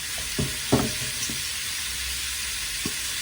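Ground beef and Italian sausage fry in a pan for spaghetti sauce, a steady close sizzle with a few short scrapes and knocks of a utensil stirring the meat.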